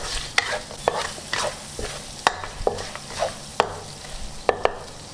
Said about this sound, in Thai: ผัดไปเรื่อยๆจนกว่ากุ้งจะสุกค่ะ